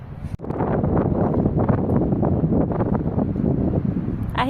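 Strong wind gusting through the Harshil valley in the Uttarakhand mountains, a loud continuous rumble buffeting the microphone for the whole stretch with a brief dip near the start.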